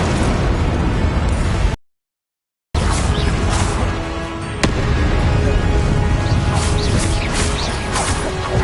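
Confringo explosive spells in the Hogwarts Legacy video game burst loudly and repeatedly, dense blasts filling the mix with a brief dropout and a sharp impact partway through.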